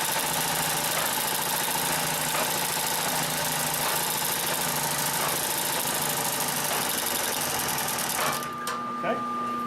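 A Consew 744R-30 industrial sewing machine runs steadily and loud, stitching forward and in reverse through layered material, with a constant motor drone that stops abruptly near the end.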